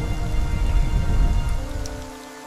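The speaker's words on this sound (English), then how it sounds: "Rain falls, cleansing the scars of fire." Steady rain falls in a dense, even hiss with a low rumble beneath, fairly loud and continuous throughout, with no voices.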